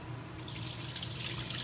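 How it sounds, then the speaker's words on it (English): Excess water drains from washed rice through a strainer, starting suddenly and then pouring and trickling steadily up close, with no talking. "remove the excess water from the rice like that"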